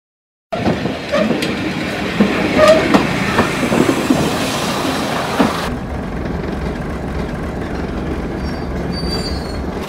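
A train rolling along rails with wheels squealing and wagons rattling, loud and close, the squeal easing after about six seconds into a steady low rumble of carriages.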